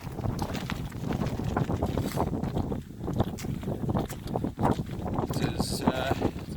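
Steady wind buffets the microphone on a muddy backcountry trail at Dolly Sods in below-freezing weather, a constant rushing roar that runs under intermittent nearby talking and footsteps.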